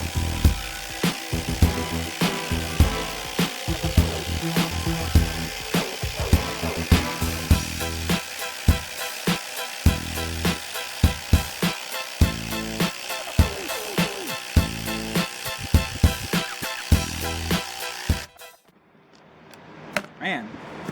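Ryobi and Kobalt budget impact drivers rattle in a timed speed race, a dense stream of sharp hammering bursts for about eighteen seconds before stopping abruptly, leaving near silence.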